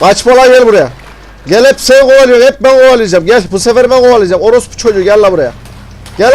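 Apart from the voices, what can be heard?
None of the usual background noises is heard.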